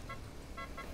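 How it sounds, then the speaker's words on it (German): A few short electronic car horn toots in a video game's Party Royale mode, quite faint, sounding in two or three bursts over a steady low background rumble. "Warte mal kurz, ich will mal hupen."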